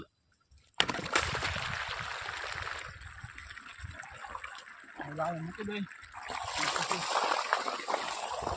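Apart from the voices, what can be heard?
irrigation water flowing in a field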